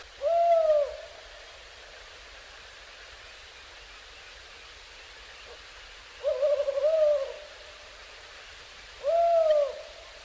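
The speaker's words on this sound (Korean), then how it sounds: "야행성인 올빼미는" An owl hoots three times at night in winter in Korea, widely spaced over a quiet, faintly hissing background; each call is a clear, wavering hoot at moderate distance.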